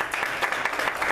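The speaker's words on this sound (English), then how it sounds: "round of applause for Ms." An audience at a political talk giving a round of applause, with steady, dense clapping heard at a moderate distance throughout.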